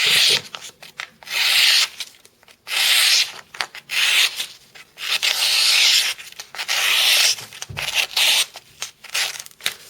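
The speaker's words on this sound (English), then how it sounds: "cutting demonstration here. This is working with the factory edge." A Spyderco Squeak folding knife with its factory edge slices through material in repeated close rasping, rubbing strokes, each lasting about a second with short pauses between, loud and alone without talk.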